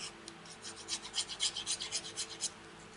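Scissors or a paper trimmer cutting a cardstock craft piece slightly narrower, a faint run of quick rasping strokes that builds in the middle and fades, close by and alone.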